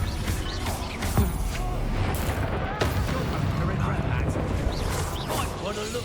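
Explosions from the Bombarda spell burst in Hogwarts Legacy combat, repeated booms and crackling blasts scattered through the clip under an excited voice that keeps talking over them.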